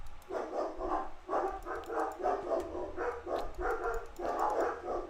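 Several dogs bark in repeated bursts from a short distance, a steady run of overlapping barks over about five seconds with brief pauses between volleys.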